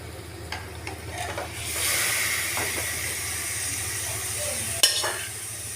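Marinated chicken hits a pan with Kashmiri chilli-coated onions, letting out a loud surge of hissing sizzle that stays steady under intermittent scraping stirs and one sharp clank near the end, close up with no talking.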